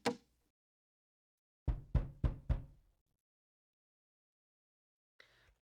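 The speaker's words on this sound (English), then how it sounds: "Let's do knocking on wood." Knocking on wood used as a sound effect for a Roblox horror game: a single knock, then a pause, then four quick sharp raps in a row, close and dry against silence.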